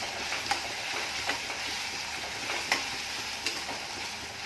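Ginger-garlic paste sizzling in hot tempering oil, a continuous hissing fry with a few light spoon taps against the pan, close and fairly quiet, with no talk.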